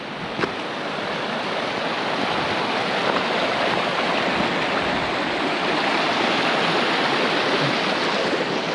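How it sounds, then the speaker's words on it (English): A little snowmelt creek in Alaska runs over rocks, a steady, close rushing and splashing of water that stays loud and even throughout, with no voices. "But right now the extent of the snow melt is just this little creek"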